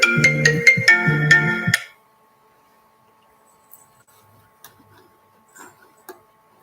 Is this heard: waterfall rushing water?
no